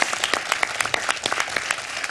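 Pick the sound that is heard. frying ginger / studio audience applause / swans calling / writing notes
studio audience applause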